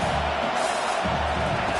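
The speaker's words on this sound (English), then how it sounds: "Decibels rising as the crowd gets behind this defense on 3rd down." A football stadium crowd roars in support of the defense on third down, a sustained, fairly loud wash of cheering voices with no clear breaks.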